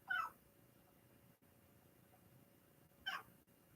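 A cat meows twice, once at the start and again near the end, both short and fairly quiet against a faint room hush.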